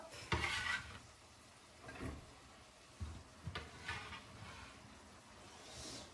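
A few clattering pot and utensil knocks as tomatoes and celery drop into a saucepan, with light stirring scrapes between them, close and fairly quiet.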